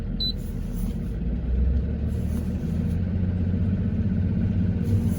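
Steady rumbling engine noise from one of two boat engines running through a winterization cycle, a continuous low drone holding even throughout with no talking.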